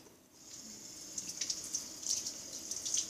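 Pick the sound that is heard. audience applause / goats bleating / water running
water running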